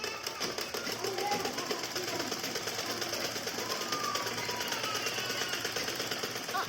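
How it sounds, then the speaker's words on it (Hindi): A sewing machine runs steadily, stitching a seam on blouse fabric at a measured margin, a continuous mechanical whir with rapid needle rhythm and no pauses. "फिर कपड़े पर ही मशीन चला देते हैं।"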